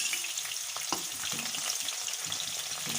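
Spring onion whites and greens sizzle steadily in a pan while being cooked for Singaporean rice, a dense continuous frying hiss with occasional soft stirring knocks, close and fairly loud, no voices.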